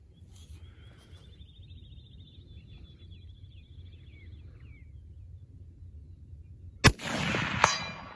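Ruger Gunsite Scout rifle fired at a steel target outdoors, giving one sharp loud crack followed shortly by a metallic clang from the struck plate, with a steady low rumble beforehand.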